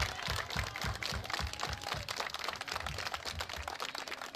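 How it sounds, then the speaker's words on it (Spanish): Applause from an audience of neighbours at a community donation event in Ventanilla, a dense wash of claps running steadily throughout at moderate level, with no talk over it. "esto quiero pedirles un fuerte aplauso"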